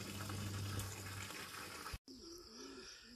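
Water runs from an outdoor spout under a tree, a steady splashing gush that cuts off abruptly partway through, followed by quieter background sounds.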